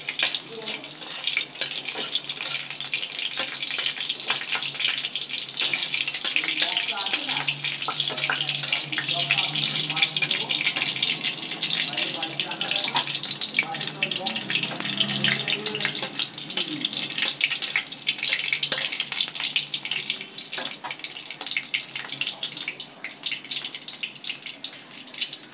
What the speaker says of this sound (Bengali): আমি কড়াইতে পেঁয়াজ রসুনগুলো দিয়ে দিয়েছি